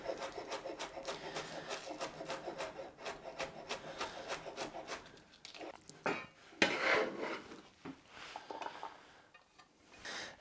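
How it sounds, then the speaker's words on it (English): A knife chops spring onions finely on a cutting board in quick, even, repeated taps. The strokes are faint and close, thinning out midway, with a few louder clacks and scrapes near the end. "I have some spring onions, So just cut those nice and fine"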